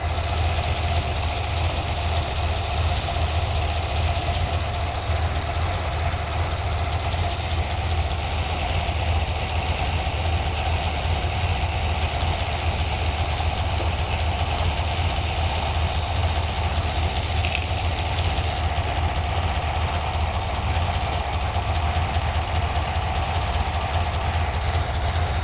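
A Ford Y-block V8 in a Thunderbird idles steadily while warming up, a continuous low engine rumble with a faint mechanical tick, close and unbroken, with no voices.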